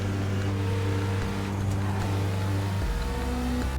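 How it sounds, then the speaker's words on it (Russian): Car engines in the racing game The Crew 2 give a loud, continuous droning hum that shifts pitch midway, with no talk over it. "Даже звуки автомобилей, которые еще на старте игры были такими разными, слились в бесформенную жужжащую какофонию."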